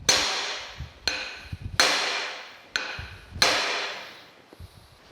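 A hammer strikes a brass drift against the shaft of an old metal planer in five loud, spaced metallic blows, each ringing out and decaying before the next, with faint shuffling between.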